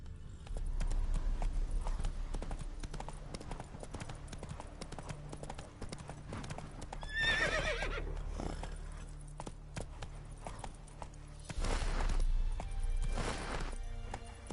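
In The Witcher 3, a horse gallops with dense continuous clip-clop hoofbeats over rumbling game ambience, and a whinny breaks through in the middle.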